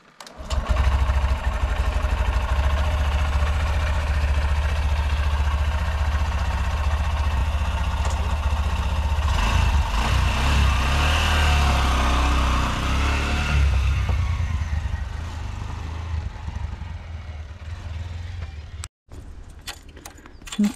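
A motorcycle engine idles close by, rumbling loud and steady, with rev changes midway before it cuts off near the end.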